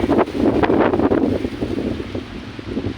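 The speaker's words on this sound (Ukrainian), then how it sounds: "сильно гуляють вітер." Strong wind buffets the microphone in heavy, rumbling gusts at a zoo in Guadalajara, Spain, with trees knocking together, loud and close, with no voices.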